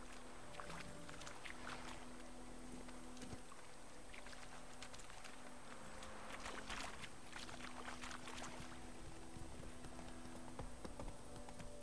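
Steady clip-clop of horse hooves at a trotting pace in The Witcher 3: Wild Hunt, around White Orchard, continuing throughout over ambient outdoor game sounds, with no talking.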